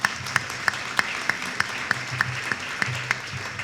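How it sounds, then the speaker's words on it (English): An audience at the 2014 Newport Hall of Fame Banquet gives a round of applause, with a dense, steady patter of many hands clapping nearby for a few seconds, broken by regular sharper claps. "Let me have a round of applause on special place."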